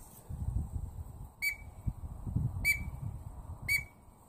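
Three short, sharp whistled peeps imitating a green-winged teal on a duck whistle, spaced about a second apart, over low background murmur and rustle.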